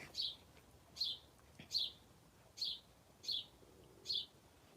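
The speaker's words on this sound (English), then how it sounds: "Wow, listen to the birds." Birds chirping outdoors, a steady series of six short bright calls repeating about once a second, moderately distant over a soft background hiss.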